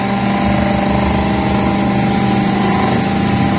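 A monoblock water pump's electric motor runs steadily at full power, a loud, constant drone with a dense hum and no break or talk.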